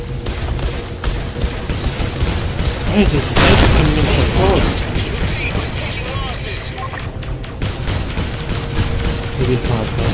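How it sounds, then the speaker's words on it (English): A sniper shot slams into the player's ship in the space combat game Star Conflict, a single heavy booming impact near the middle that stands out above continuous loud weapon fire and engine noise. "I just got sniped hard"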